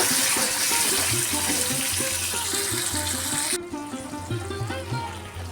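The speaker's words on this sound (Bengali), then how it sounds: "গ্রাইন্ডারটা ধুয়ে দিয়ে দিচ্ছি" Water runs from a tap over a mixer grinder jar being rinsed, a loud steady rush with knocks and clatter of the jar that thins out partway through as the flow lessens.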